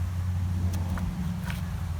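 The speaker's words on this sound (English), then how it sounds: "Truck fly by." A truck drives past on a nearby road, giving a steady low engine drone that holds for a couple of seconds with a few faint higher ticks over it.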